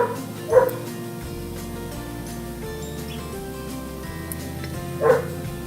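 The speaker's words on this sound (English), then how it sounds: "you can hear my dog barking" Two separate dog barks, one early and one several seconds later, with a quiet, steady background hum between them.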